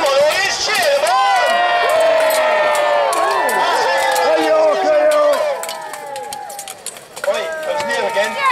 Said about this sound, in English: Come on, audience, cheer them on!